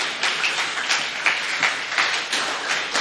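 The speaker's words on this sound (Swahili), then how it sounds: "Chapieni Bwana makofi kwa sababu Mungu wetu ni mwema." Church congregation clapping hands together in praise, a fairly even rhythmic patter of many hands with regular accented beats, steady and moderately loud with no talking over it.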